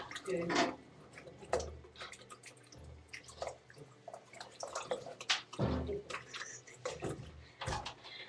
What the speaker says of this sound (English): Then with anything of your choice, stir.